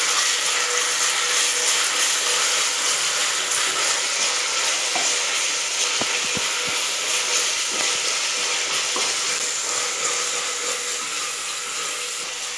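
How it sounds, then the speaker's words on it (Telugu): Ginger garlic paste sizzles steadily in hot oil with onions in a pan, a loud continuous frying hiss with occasional soft scrapes and taps as the mixture is stirred. "ఒక స్పూన్ నిండా అల్లవెల్లిపాయ పేస్ట్ వేసి మంచిగా పచ్చి వాసన పోయిందాకా కలుపుకుందాం."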